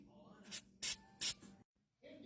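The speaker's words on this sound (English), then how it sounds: "You're going to take it and spray it with some kind of grease." Three sharp hissing bursts of spray grease hit a glow plug part during a 6.0 Powerstroke glow plug installation, each a short close-up blast, then a brief pause and a softer rustle.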